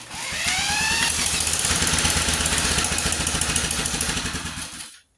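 1947 Whizzer H motorbike engine starting up and running rich, a loud, close, rapid sputtering putter that holds steady for several seconds then cuts off abruptly.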